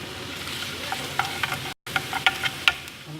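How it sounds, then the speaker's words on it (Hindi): Garlic sizzles in hot oil as it browns, a close, steady fry broken by sharp spatters and scraping taps, with a brief dropout midway and no talk. "अभी लहसुन को हम तेल में डाल रहे हैं, हल्का सा इसको ब्राउन करके।"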